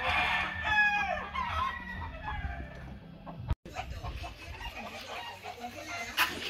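Roosters crow and hens cluck in a farm coop where breeding birds were delivered in shipping boxes, several overlapping crows up close, followed by scattered clucks and rustling, with no talk.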